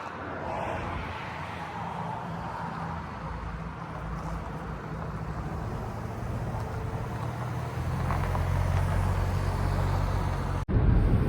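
A white Renault Koleos 2.0 dCi 4WD diesel on winter tyres drives steadily, with a low continuous engine and road hum from inside the cabin that grows louder toward the end.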